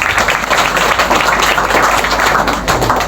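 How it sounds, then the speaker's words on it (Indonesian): Dense, steady applause from a Hindu congregation gathered for a piodalan ceremony, filling the whole stretch at close range without a break. "tepuk tangan kagem umat"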